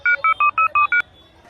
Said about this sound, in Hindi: भाई एक कॉल लगाने दो